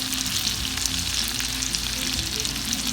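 Homemade meatballs frying in a hot pan with residual onions and garlic, a loud, steady crackling sizzle that runs continuously without any talk.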